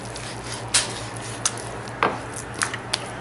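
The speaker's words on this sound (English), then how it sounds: "And just cut it right down the middle lengthwise." A knife slicing a tied pot roast lengthwise on a cutting board, heard as about six soft, uneven thuds and scrapes against a steady low background hum, close up with no talking.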